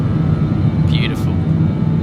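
Simulated Avro RJ jet engines holding full climb thrust in Microsoft Flight Simulator, a steady loud low roar and whine with a brief higher swish partway through.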